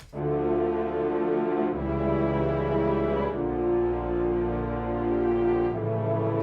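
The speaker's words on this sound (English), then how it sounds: "Right, and then we have some strings." Sustained string section playing slow, held chords with a deep low end, changing chord every couple of seconds, loud and steady with no talking.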